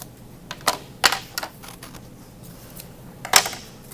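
Scissors cutting out paper circles, a few sharp crisp snips scattered irregularly with quieter rustling of paper between them, close and otherwise quiet.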